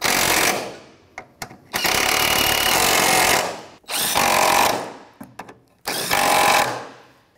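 A ratchet wrench with a 14mm socket tightens spark plugs on a 2001-2007 Volvo V70, making three long, loud buzzing runs of rapid clicks separated by short pauses and a few isolated clicks.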